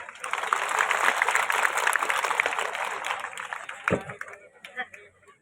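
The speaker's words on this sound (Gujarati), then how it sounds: "તમે તાળીઓ પાડશો તો એ લોકો એવું કહે છે કે અમને કોન્ફિડન્સ આવશે, તો એકવાર તાળીઓ પાડી દો" Audience applause breaking out on request, a dense crowd of hand claps sustained for a few seconds, then thinning out into scattered claps as it fades.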